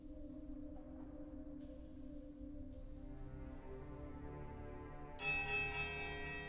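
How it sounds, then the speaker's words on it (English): A temple bell in the video game Pillars of Eternity rings out near the end with a bright, sharp strike. Its shimmering overtones sustain over a low, steady musical drone. "The bell tolls a high praising note of starting power."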